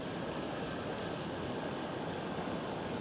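A parked airliner's engine spools up at Schiphol airport in Amsterdam, a steady distant roar and whine that holds even and moderately quiet throughout.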